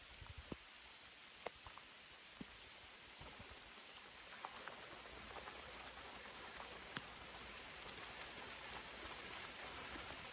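Heavy rain pours steadily through a forest during a mushroom-picking walk, a dense continuous hiss with scattered sharp drops hitting leaves and surfaces close by, no voices.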